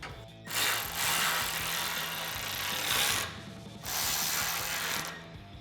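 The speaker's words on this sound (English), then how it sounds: "Tighten that down with our 5mm Allen head." A 5mm Allen-head bolt being ratcheted down on an aluminum roof rack for a 2024-2026 Toyota Tacoma: continuous close, loud clicking ratchet strokes in two long runs separated by a brief pause, with no talking.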